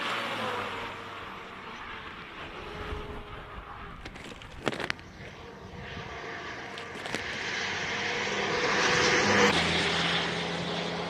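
A Fiat diesel race car drives past at a hillclimb, its engine note rising and swelling from distant to nearer with a broad roar, accompanied by a few sharp knocks midway and outdoor ambience.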